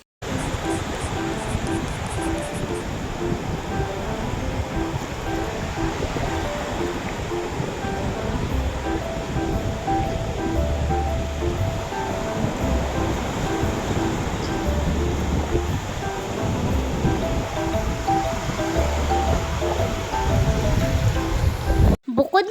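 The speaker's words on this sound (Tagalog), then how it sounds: "sa malakas yung hangin ay malakas nga rin yung alon" Strong southwest-monsoon (habagat) wind and heavy surf on Boracay's front beach: a dense, continuous roar of crashing waves and gusting wind, loud and steady throughout with no clear breaks.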